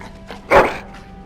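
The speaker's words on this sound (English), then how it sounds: "Bloody dog." A single dog bark from the video game Dragon Age: Origins, one short loud burst in the middle with quiet game ambience around it.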